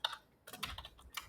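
Quick keystrokes on a computer keyboard as a short number is entered, a few soft crisp clicks in two small bursts, close and quiet with no talking.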